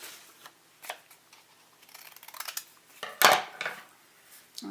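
Scissors snip through paper to cut out a small stencil shape, giving a few quick, crisp snips with short pauses between them, close by and fairly quiet, with no talking.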